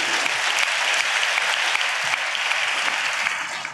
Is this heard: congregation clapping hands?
yes